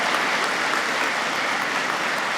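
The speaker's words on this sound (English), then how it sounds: "I'm going to, yes, give them a round of applause" Audience at a business awards event applauding the restaurant industry, a dense, even wash of many hands clapping at once, sustained and fairly loud throughout.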